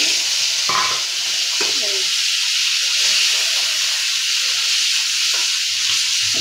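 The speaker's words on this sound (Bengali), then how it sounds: "এদিকে মাছ ভাজা হচ্ছে" Fish sizzling and crackling in hot oil in a pan on a home stove, a steady loud hiss throughout with a few brief utensil clicks.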